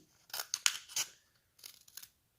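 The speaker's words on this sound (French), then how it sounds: "vous allez refaire la deuxième oreille et couper en biais" Scissors snipping paper at an angle to shape a cat's ear, a few crisp close cuts in two short quick bursts, quiet with silence around them.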